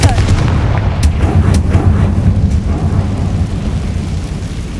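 A Confringo explosion spell in the game Hogwarts Legacy lands as a loud, rumbling blast that roars continuously and slowly fades.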